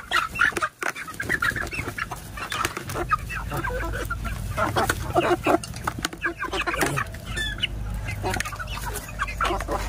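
Two-month-old chickens cluck and chatter steadily at close range while being fed papaya, a busy overlapping flock sound filling the whole stretch with no talk over it.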